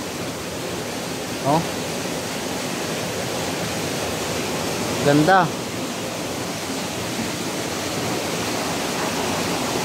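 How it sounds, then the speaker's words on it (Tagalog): Water dripping and falling from above at an outdoor spot makes a steady, dense rushing wash throughout, with two brief spoken exclamations rising over it. "Tumutulo. Galing sa taas yung tubig."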